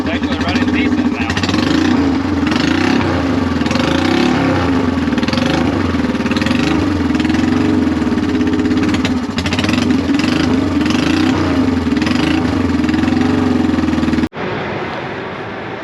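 A vintage motorcycle engine idles loudly nearby with a steady, throbbing rumble and slight roughness. Voices talk over it, and the sound drops off sharply just before the end.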